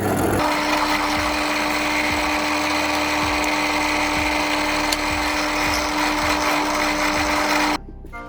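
A power drill bores out and widens holes in a 3D printed part, whining in a steady high-pitched run for nearly eight seconds before stopping abruptly, close and loud.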